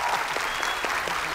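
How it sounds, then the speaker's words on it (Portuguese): Studio audience clapping for a guest on a TV talk show, a dense, loud burst of applause filling the room for a moment. "Uma salva de palmas pro Júlio Torres!"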